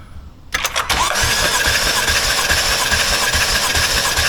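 A BMW M4 engine cranks during a compression test: a few quick starter clicks, then a loud, steady mechanical churning rhythm that continues without firing, close and dominant throughout.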